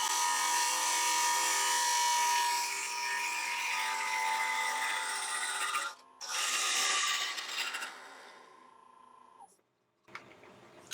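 A woodturning lathe tool cuts into the bottom of an octagonal wooden bowl, giving a steady rasping scrape that breaks off briefly near six seconds, resumes, and fades out near the end.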